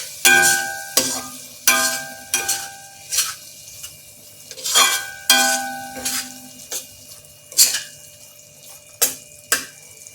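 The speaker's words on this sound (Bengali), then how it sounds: "এবার মশলাটা ভালো করে কষাতে থাকবো।" Chicken curry masala with yogurt and sugar being stir-fried in a pan, with a dozen sharp scraping strokes of a spatula at a brisk irregular rhythm over a faint sizzle, close and fairly loud, with no talking.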